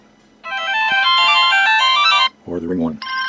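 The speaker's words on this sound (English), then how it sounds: "I pick the alarm tone." A smartwatch alarm ringtone plays a loud, steady electronic melody of bright repeating tones for about two seconds, then a lower tone pattern, then a short return of the high chime.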